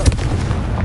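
A Confringo blasting curse explosion in Hogwarts Legacy, a single loud booming burst with a heavy low rumble that fills the whole short moment, up close and without talk.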